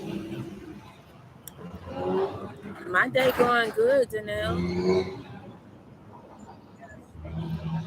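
Street traffic rolls past outside a Starbucks, cars swelling and fading at moderate distance behind a person speaking close by.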